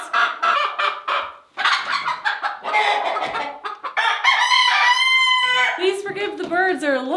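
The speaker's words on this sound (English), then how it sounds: "Please forgive the birds, they're a little bit loud today." Chickens cluck and a rooster crows loudly and up close inside a heated coop built for harsh Alaskan winters, with several overlapping calls and crowing bursts filling the space and no talk.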